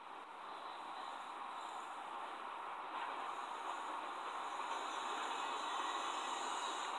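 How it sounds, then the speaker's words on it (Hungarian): A train speeding along in The Walking Dead video game gives a continuous, even rush of rumble and hiss that holds steady throughout with no talk over it. "Na, hogy száguld a vonatunk?"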